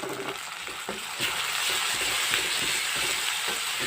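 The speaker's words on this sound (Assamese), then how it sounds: "ইয়াত দি দিছোঁ মই এতিয়া কাটি থোৱা পিঁয়াজখিনি এতিয়া মই চব ভালকৈ অকণমান লৰাই লওঁ" Chopped onions stir-fry over a high flame, a dense close sizzle growing louder after a moment, with faint spatula scrapes mixed into the hiss.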